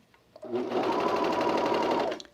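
A sewing machine runs in one steady burst of rapid stitching on a stretched knit neckband, close and continuous for about two seconds.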